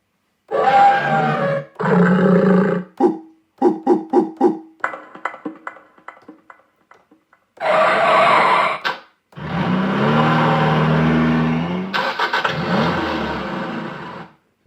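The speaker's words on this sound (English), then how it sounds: "And now with the sound effects pads." Sound effect pads on a Yamaha PSS-51 Portasound keyboard play varied synthetic effects in bursts: growls, rapid stuttering hits, a roaring engine-like rumble and a sustained buzzing tone, separated by short pauses.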